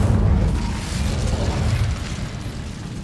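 An Incendio fire spell is cast in Hogwarts Legacy, giving a sustained, roaring fiery burst with heavy low-end rumble that holds for about three seconds with no one speaking.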